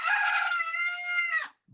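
A rooster crows once, loud and close, in a long, drawn-out morning call that fades out abruptly, followed by a brief soft low sound.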